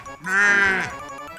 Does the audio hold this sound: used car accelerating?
no